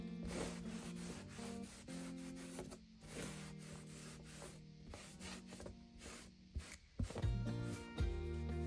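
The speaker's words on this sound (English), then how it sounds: "now we will brush off or wipe off the excess stain" A rag rubs steadily back and forth across a wooden sign, wiping off excess stain with soft, close scrubbing strokes. A faint background hum runs throughout, and a few light knocks come near the end.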